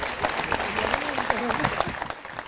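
Applause from an audience at a French political district celebration in the Bouches-du-Rhône, steady and moderately loud for a couple of seconds, with a voice carrying faintly through the clapping.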